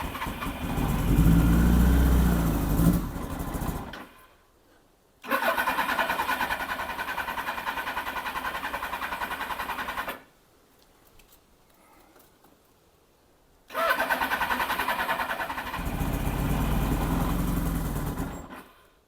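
Suzuki GSX1100 motorcycle cranking on choke as it struggles to start, two long stretches of loud churning engine sound broken by near-silent pauses, close up.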